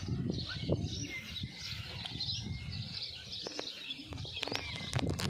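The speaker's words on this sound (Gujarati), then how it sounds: "આ બાજુ તમે જો ચકલાવાનો તમને અવાજ સંભળાતો હશે." Sparrows chirp and tweet continuously in the background, with scattered sharper calls toward the end and a low rumble of ambient noise.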